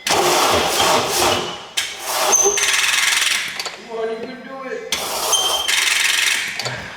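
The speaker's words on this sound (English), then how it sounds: "Let's give you that engine noise right now." A car engine being cranked by the starter on a car with a weak battery, with repeated grinding bursts broken by a brief quieter stretch, loud and close throughout.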